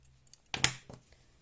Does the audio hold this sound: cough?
no